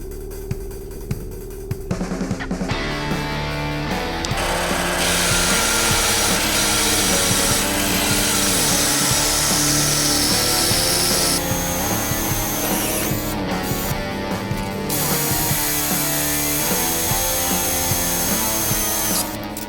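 A power tool cuts through a sheet of aluminum for a homemade overland roof rack. The cutting is loud, steady and continuous, with brief pauses and restarts and no talking.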